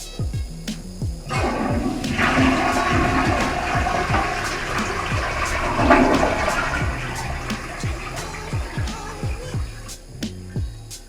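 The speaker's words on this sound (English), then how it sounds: "drained out as much water as you can out of the tank" A toilet flushes loudly with the wall water supply shut off, draining the tank, water rushing and swirling steadily for several seconds before tapering off, with faint clicks throughout.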